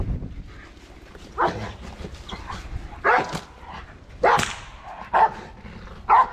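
A police K9 patrol dog barks during a training demonstration, five or six sharp, loud barks spaced about a second apart over quiet outdoor background.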